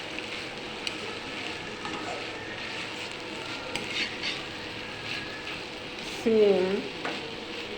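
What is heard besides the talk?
mixed vegetable bhaji frying and being stirred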